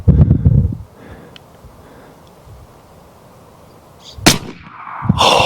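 A homemade blaster fires a 3D-printed sabot round. Two sharp, loud reports sound close by about four seconds apart. A burst of low noise opens the clip, and quiet outdoor air fills the gap between shots.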